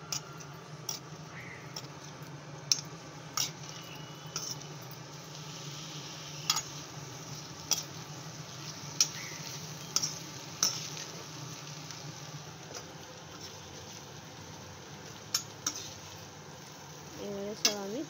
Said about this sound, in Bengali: এখন আমি এটাকে সয়াবিন ফ্রাই করব, খুবই হালকাভাবে ফ্রাই করবো,